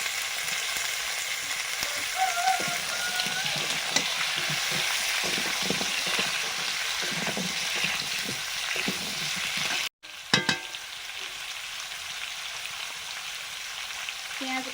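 Pumpkin frying in a pan with onion paste and ginger paste, a steady loud sizzle throughout, interrupted by a brief clatter of stirring near the end.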